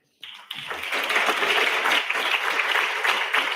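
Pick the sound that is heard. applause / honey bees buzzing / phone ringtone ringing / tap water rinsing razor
applause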